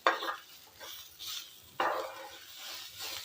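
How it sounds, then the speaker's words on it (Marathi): Tomato roasting in a pan with onion and ground masala paste, heard as repeated scraping stirs and soft sizzling in irregular bursts, close and fairly quiet. "तो पण भाजून घ्यायचा आहे आपल्याला ह्या कांद्यामध्ये आणि ह्या वाटणामध्येच बारीक करून घ्यायचं आहे"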